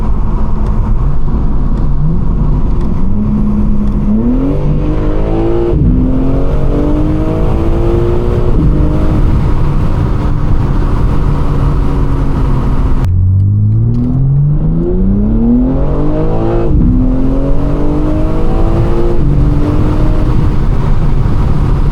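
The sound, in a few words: BMW M3 exhaust revving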